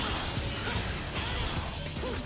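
Devil Trigger smash on an enemy in Devil May Cry 4: a dense, loud crashing impact with continuous debris-like clatter and rumble throughout, close and busy.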